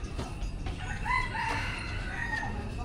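A rooster crows twice in the middle of the clip, fairly close and clear, against a busy background hum at a Buddhist temple in Thailand.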